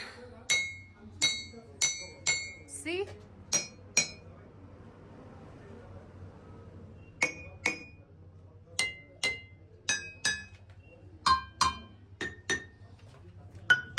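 Mineral stones and crystals struck one after another at Shey Palace museum in Ladakh ring out with bright metallic clinks in irregular bursts, each strike a different pitch, with a brief voice among them.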